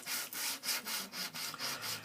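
Steel knife blade being sharpened on a stone, repeated rhythmic scraping strokes about every quarter to half second, close and steady with no voices.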